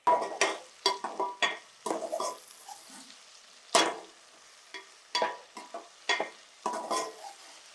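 Curry leaves, green chillies and ginger-garlic paste frying in a pan for an egg curry, with irregular bursts of sizzling and scraping stirs close by, separated by short quieter gaps.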